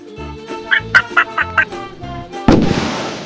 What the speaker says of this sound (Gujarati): બતક